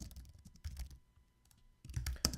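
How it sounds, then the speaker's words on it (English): Typing on a computer keyboard while composing an email, clustered quick key taps with a pause in the middle, then a faster flurry, close and quiet. "And now let's type our message."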